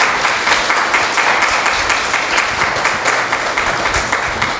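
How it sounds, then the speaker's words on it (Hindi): Loud, dense applause from the gathering at a Jeevan Vidya introductory camp welcoming a speaker, many hands clapping in a continuous, even roar close by. "तो एक बार जोरदार तालियों से स्वागत हो जाए श्री राम भाई का।"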